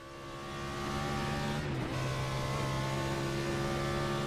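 Race car engine holding steady at high revs down a long straight on a track day, loud and continuous with a strong harmonic drone and a brief dip mid-way before pulling on.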